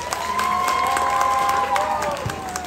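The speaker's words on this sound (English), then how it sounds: "Please give him a big round of applause." Audience at a Ugadi community celebration applauds and cheers for a junior music-school band, a steady, fairly loud crowd of clapping and shouting with no clear talk over it.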